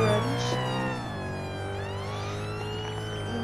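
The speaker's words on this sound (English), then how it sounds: "I think I'm gonna put on my sirens." An ambulance siren from an NHS roleplay video game wails steadily and loudly, its tone sweeping and shifting pitch continuously with no talking over it.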